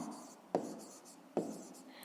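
Pen or chalk writing out a fifth-grade math exercise solution, with faint scratching strokes and two sharper taps, under a speaking voice.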